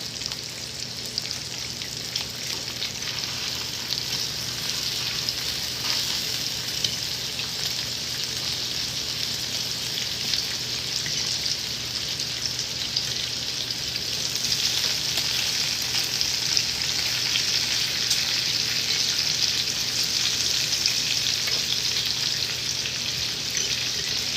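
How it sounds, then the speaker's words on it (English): Bacon strips fry steadily in a pan, a continuous close crackling sizzle with a soft hum underneath, getting slightly louder partway through and running without speech. "turn this bacon over."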